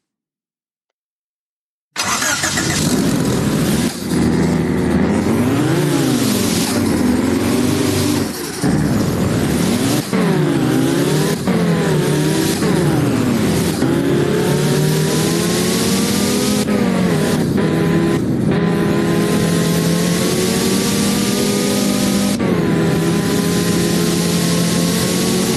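Simulated car engine from the P5 Corsa Legends racing game, revving and shifting through gears continuously with rising and falling pitch sweeps, loud and steady throughout after a brief silent start.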